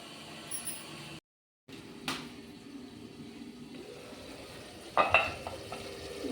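Chicken simmering under a lid in a pot on a wood-fired village stove, giving a steady soft bubbling hiss with a few brief clinks and a short dropout partway through.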